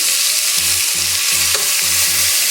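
Oxtail pieces searing in a hot pan make a continuous hissing sizzle, accompanied by a rhythmic, repeating music loop.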